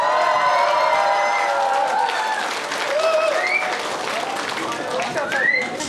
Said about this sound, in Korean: 펜싱의 매력에 흠뻑 빠져든 시민들은 아낌없는 박수를 보냅니다.